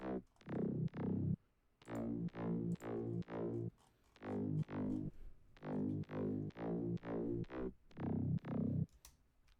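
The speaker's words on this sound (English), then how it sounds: "First we have like the bass, the main bass, which is the body." Main body bass from an FL Studio track, sounding as a loud, distorted synth bass in repeated short rhythmic stabs and sustained notes, each hit starting sharply, with no talking.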